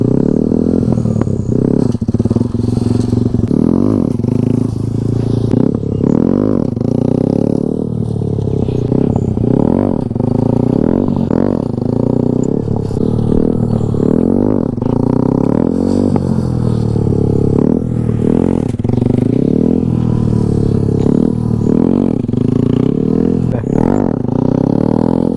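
Motorcycle engine held on the clutch and revved hard for a wheelie, a loud continuous drone rising and falling with repeated throttle blips close by.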